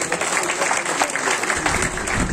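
Audience applause at a PTI political corner meeting in Panyam, a loud continuous wash of clapping from a crowd that holds steady throughout.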